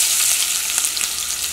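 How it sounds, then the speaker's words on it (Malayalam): Garlic, ginger and onion frying in hot coconut oil, a dense, close, continuous crackling sizzle with no voices. "അപ്പോൾ ഈ ചൂടായ വെളിച്ചെണ്ണയിലേക്ക് ചേർക്കാൻ വേണ്ടിയിട്ട് ഞാനിവിടെ വെളുത്തുള്ളി എടുത്തിട്ടുണ്ട്"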